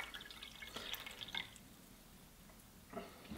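Water poured into red cabbage juice, a homemade indicator extract, in small faint splashes and drips: one cluster early on and another brief burst near the end, with no talk.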